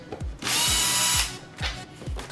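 A power drill backs two screws out of a TV stand, with a sustained whirring burst between short revving pulses, close and loud, no speech.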